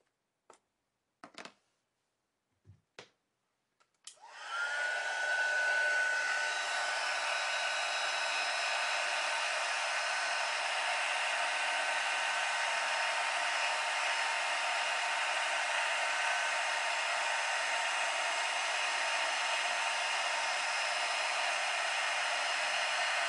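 A few sharp taps come first, then an embossing heat tool switches on and blows hot air in a loud, steady whoosh that runs unbroken to the end, with no talk.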